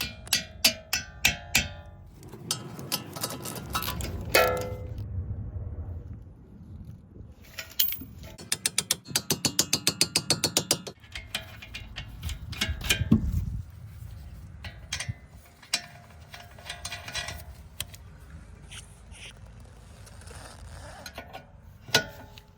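Ratchet clicking in quick bursts while tightening bolts on the rear control arm of a Cadillac XTS during suspension work, with pauses and mechanical clatter between rapid runs of clicks, close by.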